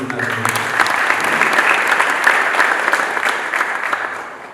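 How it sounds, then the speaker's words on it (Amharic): An audience at a book launch claps continuously and loudly, dense and even applause filling the room throughout with a slight crowd murmur beneath it. "ዛሬ የሚጨበጨበው ጭብጨባ የዶክተር ታምሬ ብቻ ሳይሆን ለእርሶ የሚደረግ ጭብጨባ ነው።"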